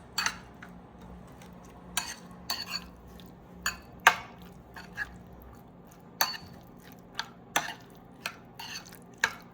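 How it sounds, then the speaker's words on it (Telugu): A utensil stirs a salted mixture in a cooking pot, with sharp metallic clinks and scrapes arriving in irregular bursts against quiet background hum, close and moderately loud, with no voices. "అండ్ ఫస్ట్ మిక్స్ చేసుకుందాం."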